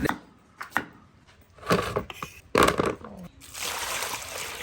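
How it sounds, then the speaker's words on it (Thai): A knife chops vegetables on a board in uneven bursts of sharp taps, close up, followed by a steady wash of running water. "ต่อไปก็เป็นการขั้นตอนการหั่นนะครับ"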